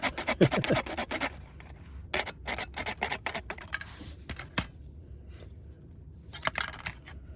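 A sand stick rasps back and forth along metal frame rails during a frame Z job. The rubbing strokes come steady and close, in quick bursts with short pauses between them, and no one speaks.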